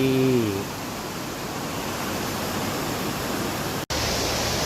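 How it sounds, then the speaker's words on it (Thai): Light rain falling at Khao Laem National Park in Kanchanaburi, a steady, even hiss that fills the whole stretch, with a brief voice at the very start. "ฝนตกปล่อยๆนิดๆหน่อย ๆบรรยากาศดีมากครับ"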